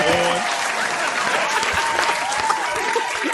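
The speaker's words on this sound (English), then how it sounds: "I thought the applause was in sync already." Applause sound effect played on a radio show out of Austin, Texas, a steady dense wash of clapping that fills the whole moment, with faint voices and a brief tone briefly audible underneath.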